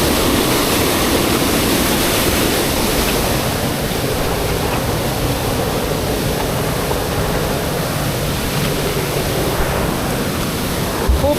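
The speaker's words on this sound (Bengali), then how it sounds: "আমরা ওই নিচে দেখছি ঝর্ণা" A waterfall at Bisnakandi in Sylhet pours with a loud, constant, close roar of rushing water that stays even for the whole stretch, with no voices over it.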